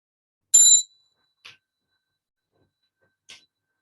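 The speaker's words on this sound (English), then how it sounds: "when Fee rings the bell" A meditation bell is rung once with a bright, clear strike that fades quickly, followed by two much fainter, brief taps in otherwise quiet surroundings.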